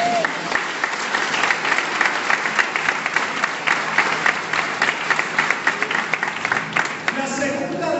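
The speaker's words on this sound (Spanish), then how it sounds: "¿Cuánto le dan un aplauso al Señor?" A church congregation claps for about eight seconds during a Spanish-language sermon, a lively, even burst of many hands that tapers slightly at the close.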